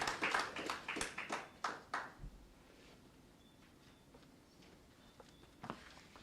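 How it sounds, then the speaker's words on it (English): A brief burst of applause from a lecture audience, a few scattered claps rising quickly then dying away after about two seconds, leaving a quiet room with faint shuffling. "I think we need to give Rhoda Burns a round of applause as we welcome her daughter Sharon to the podium."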